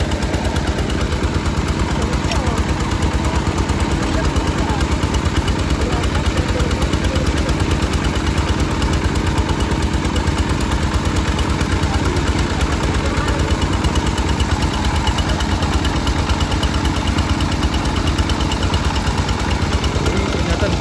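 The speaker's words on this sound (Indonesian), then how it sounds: "Sudah mulai mengebor bosku." A drilling rig bores into a stone road surface with water fed through a hose into the bit, a loud, continuous rapid hammering and engine drone that holds steady throughout.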